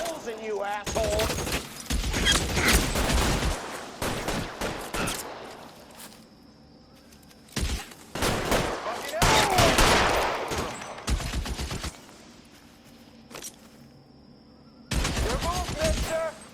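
Gunfire in an LA Noire shootout, heavy bursts of rapid shots arriving in several loud clusters separated by brief lulls, with someone shouting between the volleys.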